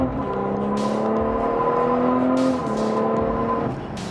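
A BMW F30 340i with an M3-style front bumper runs loud and close, its engine and exhaust holding a steady droning tone with shifting pitch and a few sharp crackles near the end.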